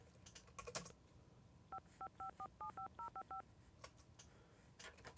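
Telephone keypad dialing tones, a quick run of about a dozen short beeps in an uneven rhythm, heard alone against quiet room tone, laid as a separate sound effect track for a film scene.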